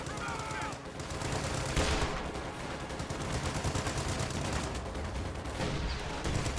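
Dense, continuous rifle and machine-gun fire from defensive-stance riflemen in a tabletop-style war game, loud and sustained with overlapping bursts and no pauses.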